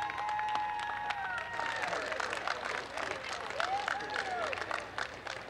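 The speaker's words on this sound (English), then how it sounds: "Let's have another round of applause, Dr. Demko." Conference audience applause after a talk on aging in America, a fairly distant, steady patter of many hands with a few cheers and whistle-like tones mixed in.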